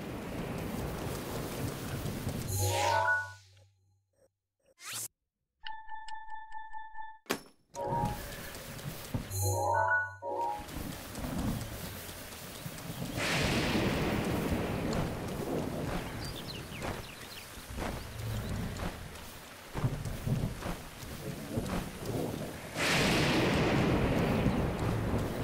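Rainstorm with thunder in Zelda: Breath of the Wild: steady heavy rain hiss broken by a few sharp menu-like tones early, then rolling thunder swells returning around the middle and near the end, loud and continuous without talk.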